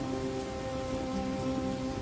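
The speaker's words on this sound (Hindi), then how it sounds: "बाहर अब भी मूसलाधार बारिश हो रही थी।" Heavy rain pours in a dense, unbroken hiss, steady and enveloping, with a low hum running underneath and no voices.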